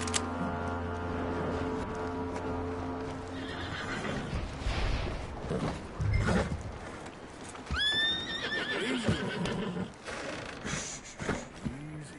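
A horse in the video game Red Dead Redemption 2 gives a loud, rising whinny over plodding clip-clop hooves and background game ambience, with a few snorts and shuffles afterward.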